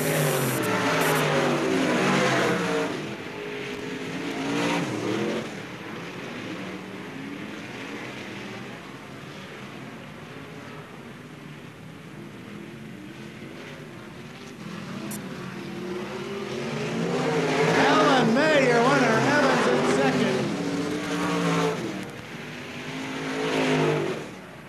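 Modified race cars tear around the Bureau County Speedway on a summer night in 1998, their engines roaring loudly as the pack swells past, fades to a steady drone, then builds again in a second surge.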